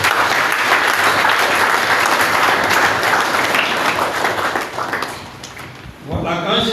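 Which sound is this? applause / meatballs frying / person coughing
applause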